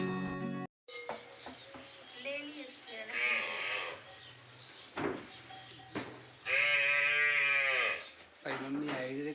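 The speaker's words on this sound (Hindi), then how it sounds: "इसीलिए तो पड़िया चिल्ला रही थी क्योंकि उसे पता चल गया था कि उसकी माँ आ गई है।" Buffalo calf at a rural Indian home calling for its mother, several drawn-out bleating calls of varying length, loud and close, with people talking in between.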